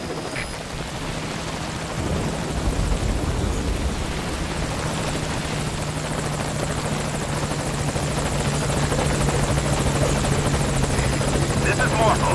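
A helicopter in Metal Gear Solid V: Ground Zeroes arrives at a landing zone, its steady droning rotor chop loud and continuous and growing slightly stronger, with radio-style talk over it.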